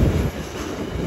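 A GBRF Class 66 locomotive hauling a container freight train rumbles steadily past close by at Ely, a continuous low roar with the rattle of wagons, and no pauses over the short stretch.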